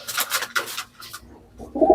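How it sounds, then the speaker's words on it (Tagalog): Soft pigeon cooing close by, low burbling calls mixed with rustling and fluttering noises, louder toward the end. "Ayan ang mga kalapati ko."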